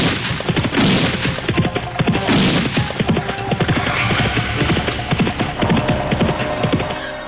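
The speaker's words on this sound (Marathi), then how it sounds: "घोड्यांच्या टापा, धरतीच्या छातीत धडधडणाऱ्या तोफांचे आवाज" Battle effects of thudding cannon fire and rapid pounding hooves, with loud booms and a dense, driving stream of impacts, close and without talk.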